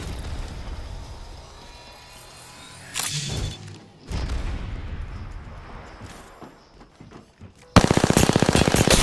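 Apex Legends gunfire crackles in bursts, with rapid automatic fire and heavy thuds that end in a loud sustained volley, and no talk over it.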